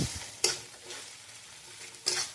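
Spice paste with ginger and garlic fries quietly in a pan, with a low sizzle broken by two sharp scraping stirs, one early and one near the end.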